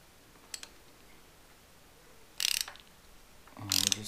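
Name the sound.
seat cutter cutting spark plug hole threads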